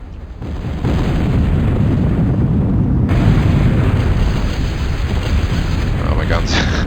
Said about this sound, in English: Guns are going mental.